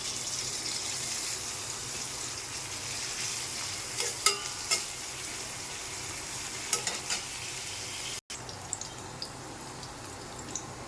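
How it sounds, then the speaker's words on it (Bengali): Chopped onions fry in oil in a pan, making a soft, continuous sizzle with sharper spatters and stirring clicks toward the middle and end, fairly quiet and without talk. "পেঁয়াজ কুচি দিয়ে দিলাম, এটা ভাজা ভাজা হবে।"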